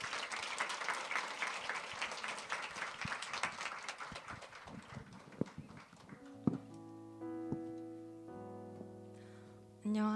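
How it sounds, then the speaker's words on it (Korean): A church congregation claps to welcome a speaker to the front, with loud, dense applause lasting about six seconds. It tapers off into sustained piano or keyboard chords. "떨릴 텐데 우리 나올 때 박수로 환영해 주시면 좋겠습니다."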